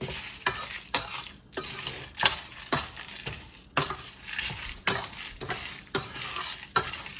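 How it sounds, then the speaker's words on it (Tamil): Lentils and spices dry-roasting in a pan for a South Indian vegetable masala powder, stirred steadily with a utensil that scrapes and rattles the grains in quick repeated sweeps, with a light sizzle underneath and no voices. "இது நல்லா ப்ரௌன் ஆகிற வரையும் வறுக்கணும்"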